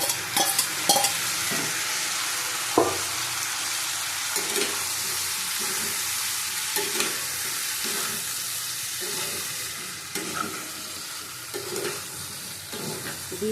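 Ridge gourd sautés in a pan for a curry with pumpkin and potato, a continuous sizzle broken by repeated scraping stirs of a spatula at a steady, unhurried rhythm.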